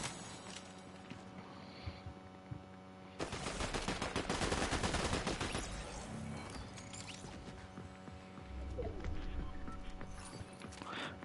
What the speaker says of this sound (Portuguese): Ah, tá tendo muito tiro.